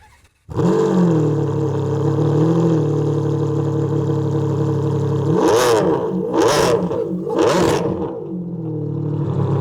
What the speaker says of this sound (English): I promise you guys I'll let you hear it start.